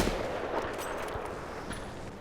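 A sniper rifle shot from the video game Battlefield 4 fires once, loud and booming with a rolling echoing tail that fades over about two seconds, with no talking.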